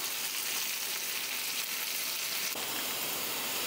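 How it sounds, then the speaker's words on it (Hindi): Onions frying in a pan for a chicken curry, a steady, dense sizzle that holds at an even level throughout, close and without talk. "हम प्याज को फ्राई करेंगे जब तक प्याज का कलर अच्छे से चेंज ना हो जाए"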